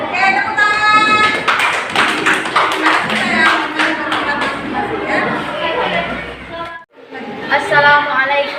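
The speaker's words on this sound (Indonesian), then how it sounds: "Oke, tepuk tangan." A classroom group claps for a presentation. Lively, uneven hand claps mix with chatter and children's voices, then break off briefly before voices resume.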